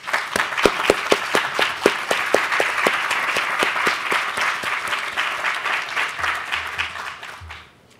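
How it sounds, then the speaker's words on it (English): Applause swells at a building dedication ceremony at the University of Virginia, with sharp individual claps at first merging into a full, sustained crowd ovation that fades out near the end. "Please join me in a round of applause for all these people."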